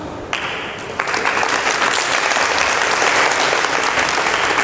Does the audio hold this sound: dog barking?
no